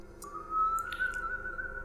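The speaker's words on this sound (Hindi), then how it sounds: "ठीक 3:03 पर हमने वो सीटी सुनी" An eerie, thin whistle rises and holds as a single sustained tone for about a second and a half, faint and alone over a quiet background, used as a horror story sound effect.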